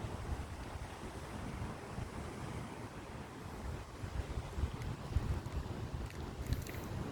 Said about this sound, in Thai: อันนี้เป็นทะเลอันดามันค่ะ